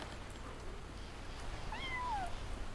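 A kitten in the video game Bear and Breakfast gives a single short, faint meow over a quiet background.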